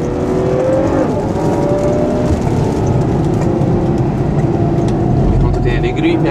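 A 2014 Ferrari FF on a track day pulls hard with a loud, continuous engine roar and deep low rumble, close and sustained, while someone talks over it.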